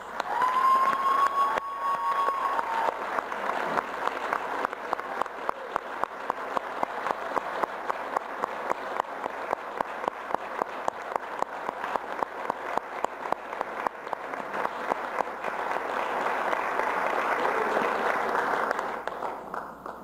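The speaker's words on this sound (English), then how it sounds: "I would like to give them a round of applause and thank them for their service" A town council meeting audience applauds young volunteers in sustained, even clapping that fills the room for about twenty seconds, with no talking over it.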